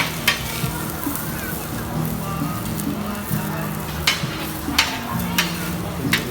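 Steady frying sizzle of a mussel pancake on a hot griddle at a street food market, with metal spatula clinks and scrapes tapping at irregular intervals.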